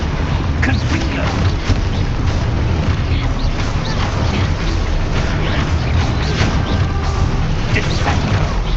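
Spell explosions and magical booms from combat in the video game Hogwarts Legacy, a dense, loud, continuous barrage of blasts and crashes with no pauses across the whole stretch.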